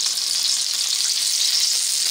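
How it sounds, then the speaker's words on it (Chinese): A marinated pork chop fries in a little hot oil over medium-high heat, giving a loud, dense, unbroken sizzle at close range. "把腌好的猪扒放进去煎，用中等偏高的火快速把两面煎到金黄"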